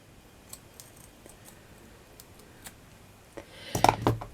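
Scissors cutting a craft crown for a shadow box: a few quiet scattered snips and taps, then a louder burst of close crunchy cutting near the end.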